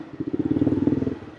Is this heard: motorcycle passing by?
yes